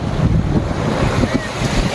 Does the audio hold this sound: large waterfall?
yes